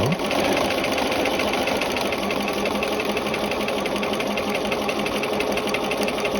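Sewing machine running steadily while stitching a peplum sleeve cuff at a short stitch length, a continuous fast mechanical whir with a dense rapid rhythm, loud and close, no voices over it.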